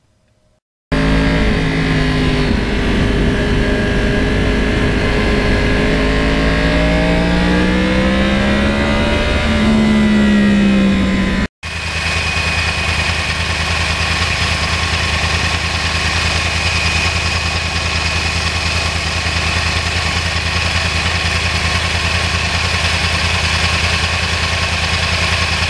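A 2009 Yamaha R1 crossplane motorcycle engine with 32,000 miles idles with a lumpy, uneven burble, rising in a couple of throttle blips, then settles into a steady rumbling idle, close and loud.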